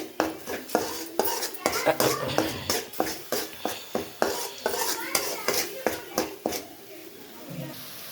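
Onions and cinnamon sautéing in a pan for butter green chicken, with a rapid run of close utensil scrapes and taps against the pan over a light sizzle, easing off toward the end.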